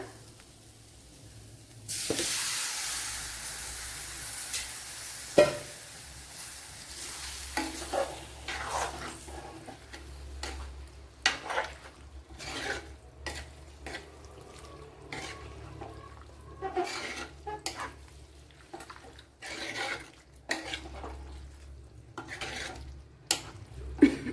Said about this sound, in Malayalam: ഇനി ഇതിലേക്ക് നമ്മുടെ കണവ എടുത്ത് തട്ടി കൊടുക്കുക